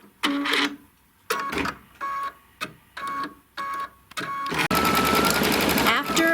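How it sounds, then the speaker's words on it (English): Embroidery machine stitching a bluebonnet flower design, rapid mechanical whirring bursts repeated in short even pulses, then a longer continuous run. "After it stitches a couple of the stems and the leaves, it's going into the little blue bonnet flowers, and so we're just going to stitch those off."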